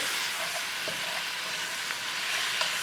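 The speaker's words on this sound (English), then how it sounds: "We let it cook all the fragrance and fry the meat really good" Pork sizzles steadily in a pan with curry powder, a loud, continuous frying hiss with a few faint clicks of stirring scattered through it.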